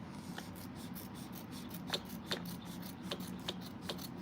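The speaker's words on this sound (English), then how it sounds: "I love these scissors." Scissors snipping through foam during quilting work: a quiet, rhythmic series of short crisp cuts, about a dozen in close succession, over a low steady background hum.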